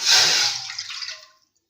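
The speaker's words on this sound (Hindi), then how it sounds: "इसमें सबसे पहले मैं डालूंगी आधा कप पानी।" Half a cup of water is poured into a kadhai set on a stove, a short splashing gush that tapers off quickly into silence.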